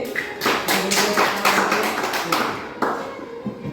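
Classroom applause for a student: many children clapping together in a dense, continuous patter, fairly loud and close, fading slightly toward the end.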